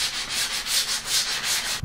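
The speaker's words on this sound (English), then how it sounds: "180 sandpaper, quick sand of those end grains" 180-grit sandpaper rubbed over MDF end grain in quick back-and-forth strokes, about five rhythmic raspy swipes, close and fairly loud with no talking.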